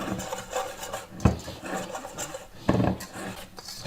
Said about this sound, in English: Got to stir it a bit more.